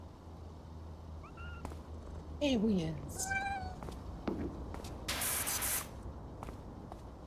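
Cats meow in the video game PowerWash Simulator 2, with several short rising and falling meows in quick succession over a steady background hum, followed by a burst of hissing spray. A voice briefly speaks.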